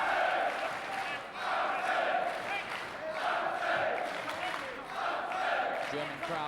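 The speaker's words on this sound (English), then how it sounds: "German crowd trying to get behind Schulz and trying to lift him." A German boxing crowd roars steadily in a large arena, cheering on Schulz in waves of loud shouting and chanting that swell and ease over several seconds, with no clear single voice rising above the mass.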